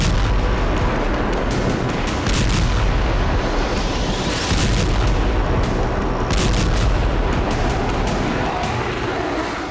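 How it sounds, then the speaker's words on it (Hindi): Israeli bombing strikes on Beirut's Dahiyeh area produce a dense, continuous roar of heavy booms and rumbling blasts, loud and sustained throughout, with repeated sharp impacts layered over a low, churning background. "दाहिया की चिया सहित कई इलाकों पर इजरायल ने बमबारी की।"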